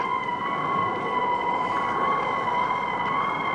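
A steady, continuous electronic alarm tone blares without pause, sustained and unwavering: a warship's general quarters alarm.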